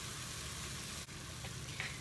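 Tomatoes with crushed red pepper and salt sizzle steadily in a pan, an even, fairly quiet hiss with a faint clink near the end and no talking.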